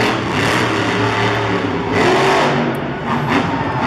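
The Titan monster truck's engine revs loudly at a Monster Jam freestyle event in St. Louis, a sustained roaring drone that swells and eases amid crowd and arena noise.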